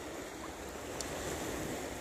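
Open sea at low tide, heard from a small fishing boat in mid-ocean: a faint, steady wash of waves with light wind noise, distant and unbroken, with no voices.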